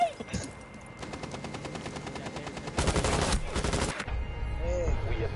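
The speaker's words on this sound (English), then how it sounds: "he got you with the SMG 11!" Rapid automatic fire from an SMG-11 submachine gun in a shooter game rattles in a fast, steady stream, then a louder close burst follows, under chaotic game noise and brief voices.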